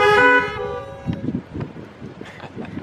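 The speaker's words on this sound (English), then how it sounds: "And everyone honks once." Car horns honk once together at an outdoor Sunday blessing of the animals: a loud, overlapping blast at the start that cuts off within half a second, followed by a low murmur of background noise.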